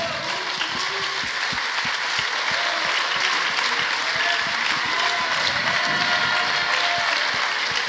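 A seminar audience applauds former members with steady, dense clapping that fills the room throughout, a few voices faintly audible underneath.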